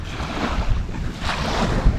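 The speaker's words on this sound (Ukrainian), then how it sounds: "Вітер просто капець" Strong gusting wind by the Dnipro River buffets the microphone with a steady low roar, rising in surges, with a faint rush like open water in the background.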